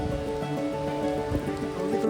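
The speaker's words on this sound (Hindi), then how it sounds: "अचानक से बहुत ज़ोर से बारिश आने लग गया" Heavy monsoon rain pours steadily along the Kedarnath trekking route, a loud, dense and continuous patter close by, with no voices.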